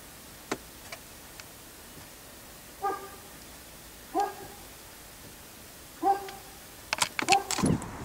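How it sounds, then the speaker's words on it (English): A 10-year-old Newfoundland dog barks deep single woofs roughly every one to two seconds at a mid distance, with ticking car sounds and a flurry of louder noises at the end. "this is my Newfoundland"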